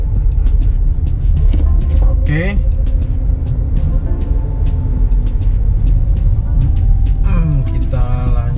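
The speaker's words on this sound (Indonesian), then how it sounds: "bis ini yang keluar dari pool yang ada di sini di dekat gerbang tol Pamulang" A bus pulls out of a depot near the Pamulang toll gate amid rumbling road traffic, with a short hiss like an air brake and someone talking over the engine noise.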